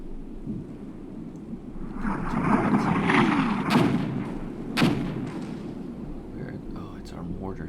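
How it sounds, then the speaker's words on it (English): Mortar rounds firing and impacting in a military video game artillery mission, heavy booming thuds and rumbling blasts with a couple of sharper reports, over a continuous low battlefield rumble. "Oh, it's our mortars."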